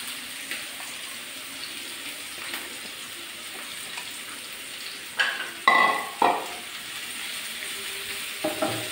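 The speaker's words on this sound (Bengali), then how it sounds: "ফ্রাইপ্যানে একটু তেল দিয়ে দিলাম, তেলটা গরম হয়ে গেছে। এখন পেঁয়াজগুলো দিয়ে দেব।" Onions frying in hot oil in a frying pan, a soft steady hiss throughout, with a few louder scraping and stirring sounds toward the end.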